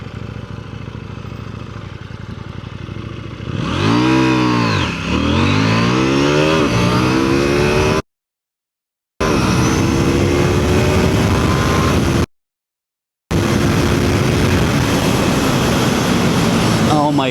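KTM 790 Duke motorcycle accelerating hard from 0 to 100 km/h, engine note sweeping up through several rising gear pulls, loud and close, with two short dropouts in the sound.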